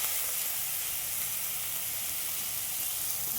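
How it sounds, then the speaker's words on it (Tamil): Ginger garlic paste sautés in a pan for a village-style chicken fry, giving a steady, loud, even sizzle that hisses without a break and with no voices. "நல்லா இஞ்சி பூண்டு வாசம் போகிற வரைக்கும் நல்லா வதக்கணும்."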